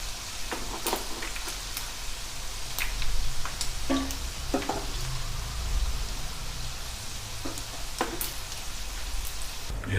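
Chicken pieces deep-frying in hot oil in a kadai for Indo-Chinese Dragon Chicken, a steady dense sizzle and crackle running throughout with scattered sharper pops, close and fairly loud, no talking.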